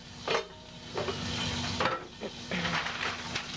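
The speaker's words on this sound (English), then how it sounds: "while the pork is cooking" Pork cooking in a pan sizzles steadily at a low level, broken by repeated knocks and scrapes of utensils against cookware.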